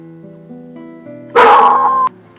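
Dogs playing by an icy river stream in early December, with a short burst of loud yipping and whimpering barks near the middle, set against a quiet, tonal background.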